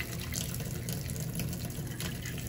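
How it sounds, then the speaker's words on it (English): Water runs steadily from a tap into a sink, a continuous close splashing rush with no pauses and no talk. "Water."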